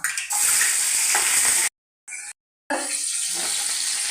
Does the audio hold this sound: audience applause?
no